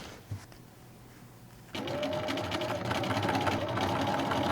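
A home sewing machine joins the back and front of a pair of shorts, starting after a quiet moment into a steady, close whirring hum that carries on without pause.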